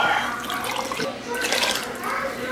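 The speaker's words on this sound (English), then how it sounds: "Okay, a cup and a half of beef broth." Beef broth pours into a pot of chili with a steady, splashing flow of liquid at close range.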